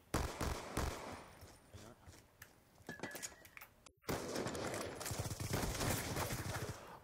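Rapid bursts of automatic gunfire in the Black Ops 2 shooter game, dense crackling volleys filling the clip with a brief cut partway, loud and continuous.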